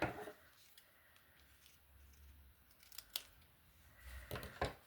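Scissors snip a small piece of washi tape during journaling at a desk, a few quiet crisp cuts and light rustles spread over several seconds, close with no talking.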